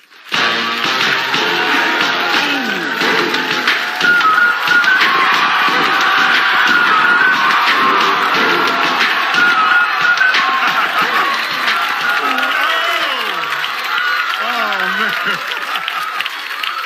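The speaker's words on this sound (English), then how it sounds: "please give this next gentleman a warm round of applause" Comedy show audience breaking into loud, sustained applause with cheering and whooping for a gentleman coming on stage, a dense crowd roar with scattered shouts.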